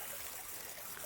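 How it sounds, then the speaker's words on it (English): Water from a pot of boiled crayfish draining out in a steady, soft trickling stream with a gentle hiss throughout, quiet and unbroken, no voices. "I want to drain this,"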